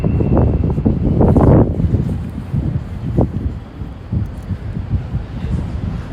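Wind buffets an outdoor microphone that has a furry mic cover. A steady, loud low rumble with gusty swells continues throughout, with no voices.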